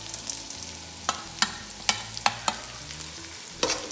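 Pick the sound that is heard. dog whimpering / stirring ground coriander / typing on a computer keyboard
stirring ground coriander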